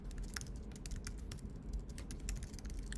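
Quick, steady keystrokes on a computer keyboard tap away at close range during a React coding lesson, light and irregular clicks with no talking.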